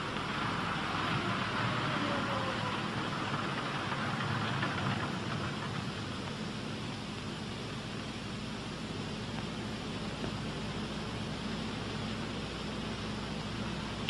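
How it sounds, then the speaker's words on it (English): Engines of a P-61 Black Widow fighter aircraft run down at shutdown, giving a faint, steady rumble and hiss that stays level throughout with no abrupt stop. "advance throttles to full open as the engines die."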